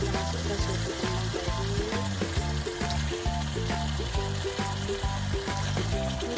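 Cuttlefish (sotong kembang) goes into a hot pan and fries with a steady, hissing sizzle. The sizzle plays under rhythmic background music that runs throughout.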